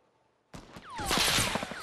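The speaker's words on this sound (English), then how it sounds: "They're shooting at me" Gunfire in Fortnite erupts after a brief silence: a sharp shot, then a dense burst of rapid shooting with whizzing ricochets, loud and continuous to the end.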